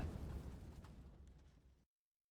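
A shot-down plane crashes into the ground in the WWII strategy game Order of Battle, giving one low, rumbling explosion that fades over under two seconds and cuts to silence.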